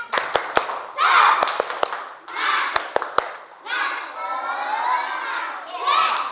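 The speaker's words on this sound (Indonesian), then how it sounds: "Tepuk semangat." A group of students performs a rhythmic spirit clap, with bursts of crowd clapping and cheering alternating with a few sharp single claps, loud and close in a room.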